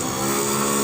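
A Honda Vario 110 scooter engine running after starting trouble, a brief, loud, steady mechanical hum that swells slightly as it revs, heard up close.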